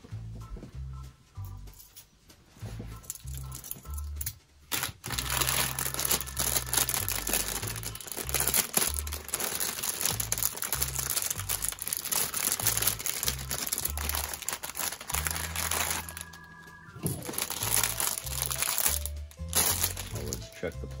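Plastic bags holding the runners of a Bandai Entry Grade model kit are crinkled, rustled and torn open in close, loud bursts, with a voice heard briefly alongside.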